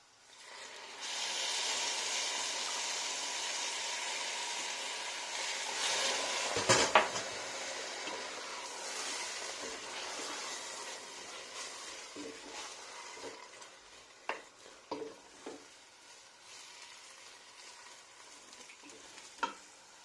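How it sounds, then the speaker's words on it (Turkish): Hot water poured over bulgur in a cooking pot sets off a loud, steady sizzling hiss that slowly dies down, followed by a few sharp clinks of a utensil against the pot; nobody speaks. "Ve üstüne 2 su bardağı sıcak su ilave edeceğim."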